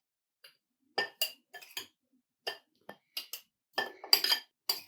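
Sobia powder is spooned into a glass jar, giving a scattered series of light, close clinks and taps against glass with quiet gaps between them and no talking.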